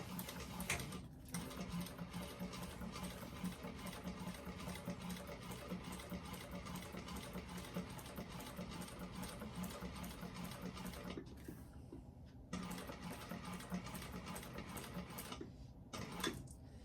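A sewing machine stitches a fabric bag in a steady, rapid mechanical whir, running continuously at close range with a couple of brief pauses, and no voices.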